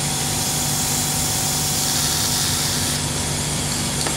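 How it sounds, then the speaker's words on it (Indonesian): A Lakoni Fresco 130X oilless air compressor runs with a steady, loud motor drone and a constant hum, unbroken throughout and with no talking. "kita hidupkan kompresornya"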